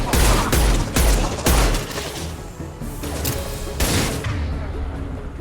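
In Mass Effect 2 Legendary Edition, at the Horizon defense tower, the Impact Shot ability fires amid combat. A string of loud, heavy blasts lands in quick succession, then fades into softer rumbling effects.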